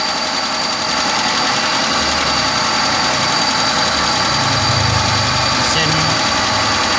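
Hyundai Atos fuel-injected engine running under the front hood, a steady idle that swells louder as the throttle linkage is pulled up by hand, heard close and continuous with some talk over it.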